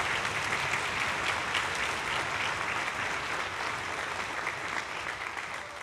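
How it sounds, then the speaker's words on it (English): Sustained audience applause at a junior high band camp performance honoring the band's percussion specialist, a dense steady wash of clapping that holds for several seconds and tapers slightly at the end. "So a round of applause for Tim."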